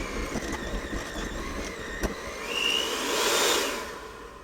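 An electric hand mixer whirs steadily as it runs through thick cookie dough, then rises to a higher, louder whine in the final seconds as it is switched to high speed.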